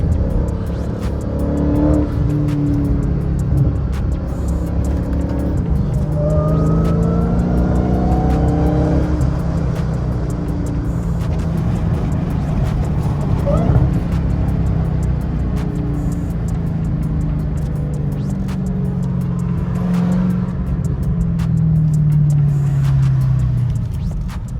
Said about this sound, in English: Give y'all that second gear downshift.